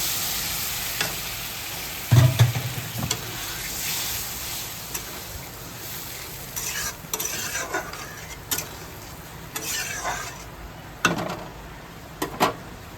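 A little water poured into a pan for Bengali prawn malai curry sets off a steady sizzling hiss, with repeated stirring scrapes and sharp utensil clinks against the pan, close and prominent.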